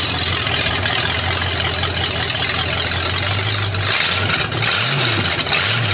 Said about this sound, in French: Voilà, donc là on est sans pot d'échappement.